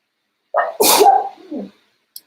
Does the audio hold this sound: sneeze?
yes